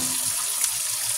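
A kitchen sink tap runs steadily while dishes are rinsed, giving a continuous close hiss of flowing water with no voices.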